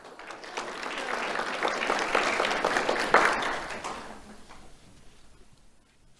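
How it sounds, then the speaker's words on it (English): Applause from a crowd at a Do The Right Thing awards ceremony for a student, steady clapping that swells, peaks midway, then gradually thins out and fades toward the end. "Let's have a round of applause for Yaralyn."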